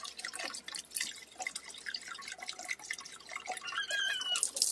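Water trickles and drips into a pet Javan myna (jalak kebo) starling's drinking container, a close, irregular patter of small splashes without speech.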